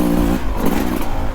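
A 2024 Beta 300 RR dirt bike engine revs loud and close, a buzzy sustained roar that dips and swells again through the short moment.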